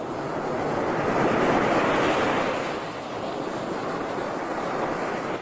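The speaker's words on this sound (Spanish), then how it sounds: "Ya tú ves este mar donde estamos nosotros ahora." Sea waves breaking on the shore at Playita, Cuba, a continuous loud surf roar that swells through the first seconds, eases briefly, then builds again, with no voices.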